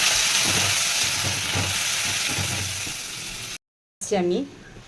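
Coconut milk poured into a pan of frying bitter gourd and eggplant gives a steady, close sizzle that runs for several seconds, breaks off abruptly, then returns as a brief bubbling burst with a voice over it.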